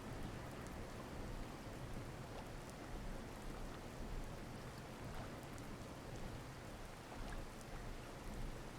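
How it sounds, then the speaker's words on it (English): Steady, dense rain patters continuously in the video game Dreams in the Witch House. The downpour stays even and fairly close throughout, with no speech. "I've only been here when it's raining"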